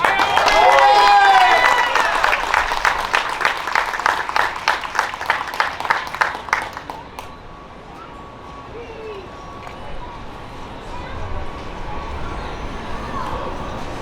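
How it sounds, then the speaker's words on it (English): An outdoor crowd at Paterson's 51st annual Puerto Rican flag raising ceremony breaks into loud, sustained clapping for about seven seconds. The applause then thins into a quieter murmur of background voices. "let's give him another round of applause"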